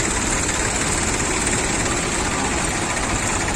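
Tractor engines idle steadily at a farmers' rally, a continuous close rumbling drone with no breaks.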